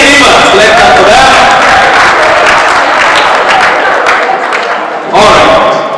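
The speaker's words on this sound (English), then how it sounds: "Let's clap for Lee and Ivan. Let's clap for them." An audience at a talk claps loudly and steadily for two guests, a dense burst of applause that carries almost to the end before a brief dip and a final swell.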